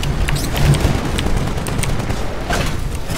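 A chain gun fires in a multiplayer video game battle, a loud, sustained burst of rapid shots with sharp cracks and low booms layered over dense combat noise.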